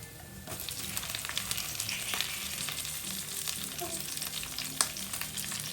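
Onion and garlic frying in a pan for a tofu and bok choy stir-fry, a steady broadband sizzle with occasional scraping stir clicks and one sharp clack near the end, no voices.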